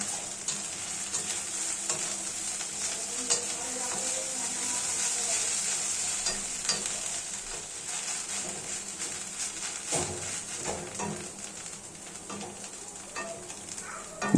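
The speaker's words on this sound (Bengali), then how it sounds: "ডিম ভুজিয়াটা একটু ভালোভাবে রং না হওয়া পর্যন্ত খুব সুন্দরভাবে সেটা ভাজতে থাকবো।" Scrambled egg fries in hot oil in a pan for fried rice while being stirred, giving a continuous close sizzle with scraping stir strokes and no voices.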